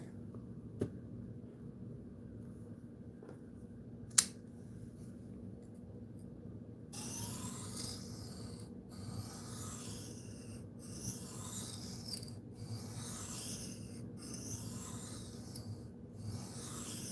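A knife is drawn against a sharpening stone in a steady run of soft, rhythmic grinding strokes, close and fairly quiet, with a brighter scraping texture once the stroke pattern picks up midway.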